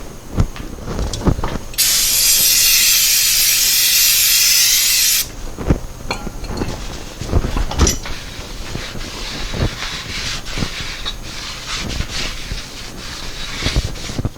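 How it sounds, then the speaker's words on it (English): Brake cleaner sprays from an aerosol can onto a 1993 VW Cabriolet transmission part during clutch work, a loud steady hiss lasting about three seconds, followed by scattered clicks and handling clatter of parts. "Now I'll get some brake cleaner and clean this off."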